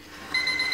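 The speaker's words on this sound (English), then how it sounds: "your alarm clock again." An alarm clock goes off nearby, its electronic beeping cutting in sharply and repeating in a quick, steady pulse.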